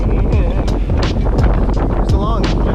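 Strong wind of about 22 knots buffeting the microphone aboard a sailboat under way on open water, a loud continuous roar and rush with gusty swells, and people talking faintly underneath.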